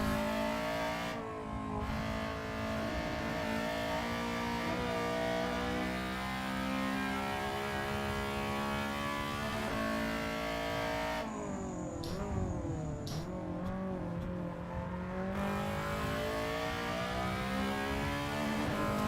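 EG Honda Civic race cars battling at Tsukuba, the engines loud and close, holding steady revving tones with shifting pitch as the cars run nose to tail. No voices.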